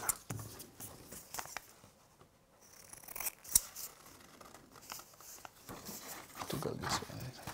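Sharp snipping of scissors cutting fabric for hexagon quilting, close and intermittent, with a few quick cuts among soft rustling handling sounds.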